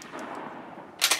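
Single sharp rifle shot near the end of a quiet moment at a 100-meter outdoor range, fired with a rear diopter sight, loud and close with a brief crack.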